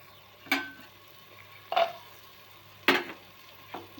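Dal and peanuts being stirred in a pan for spiced Maharashtrian masale bhat, with four separate scraping stirs over a faint sizzle. The stirs come at roughly even intervals, close by and moderately quiet, with no one talking.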